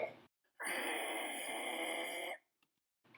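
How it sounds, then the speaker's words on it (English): A barn owl gives one long, harsh, hissing screech lasting nearly two seconds, raspy and breathy rather than tonal, with brief quiet before and after. "Barn owl."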